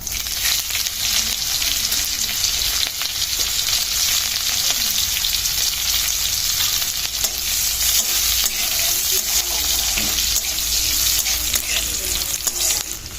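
Panch phoron and green chilies fry in a wok while being stirred, a loud continuous sizzle with dense crackle and scraping, close and steady throughout, no voices.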